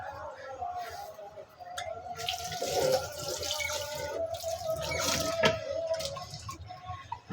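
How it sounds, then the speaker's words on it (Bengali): Plates and dishes are washed at a kitchen sink with Lemon Bright dish soap, running tap water splashing steadily and close with faint clinks, under a voice talking over it. "আর আমি প্লেট, থালাবাটি, এই যে লেমন ব্রাইট, এটা দিয়ে ধুয়ে থাকি।"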